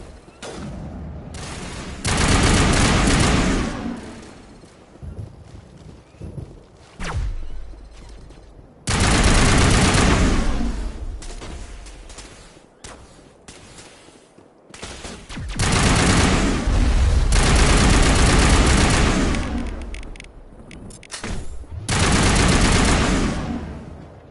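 Heavy crossfire in the video game Mass Effect: loud, dense bursts of automatic gunfire come in three or four long waves, with quieter stretches of scattered shots between them.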